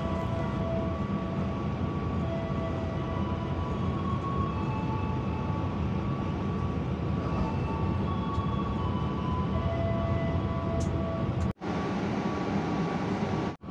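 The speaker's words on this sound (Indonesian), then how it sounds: "KA Jakarta Tingkir kembali diberangkatkan dari stasiun Kebumen jam 19 lebih 13 menit" KA Jaka Tingkir passenger train running between Kebumen and Kutoarjo stations, a steady loud interior rumble with faint tonal hums, broken by a brief sharp dropout near the end.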